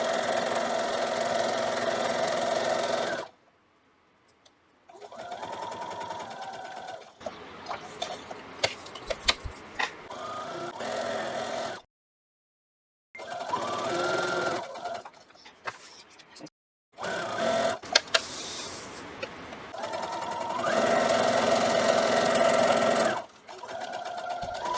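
Close-up sewing machine stitching vintage Sunbonnet Sue quilt block fabric, running in several long bursts separated by brief silent stops as the fabric is turned, with a steady buzzing motor and ticking needle.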